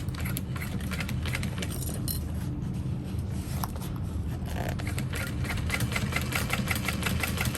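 Continuous fast mechanical whirring and rattling of a sewing machine back-stitching over a slip pocket, steady and close with a dense needle rhythm and no talk.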